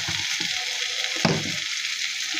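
Small shrimp frying with chopped coriander leaves being stirred and mixed in a pan, a steady sizzle broken by a few spatula scrapes and clatters, close and without talk.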